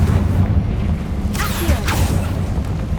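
Confringo blasting spell fired in Hogwarts Legacy inside a decaying catacomb, giving two swelling whooshing bursts over a constant low rumble, loud and close.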